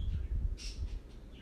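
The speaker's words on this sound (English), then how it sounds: "I'm so sorry about the birds. Oh my gosh." Birds call outside in a short, faint burst of a few harsh chirps over a low background rumble, with no talking.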